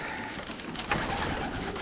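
White homing pigeons cooing in a loft in winter, soft low coos and rustling, close but fairly quiet against steady background noise.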